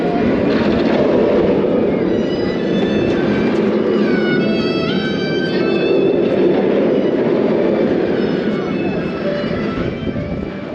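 Red Force roller coaster at PortAventura roaring past in a loud, sustained rush with a rising mechanical whine, continuous throughout with no pauses.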